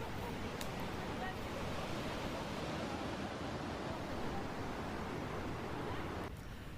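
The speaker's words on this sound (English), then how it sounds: "look down on the torrent of water crashing 45 metres over the falls of Massage" Torrent of water crashing 45 metres over the Falls of Measach into a tree-lined gorge in Scotland, a dense, steady roar heard from above, constant and loud throughout.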